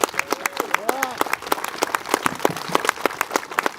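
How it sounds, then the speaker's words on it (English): Crowd applause with sharp irregular claps and brief cheering voices, fairly close and steady throughout. "Let's all give a big round of applause for Leroy Garcia."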